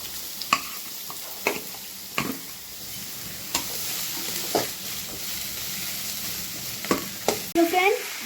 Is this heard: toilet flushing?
no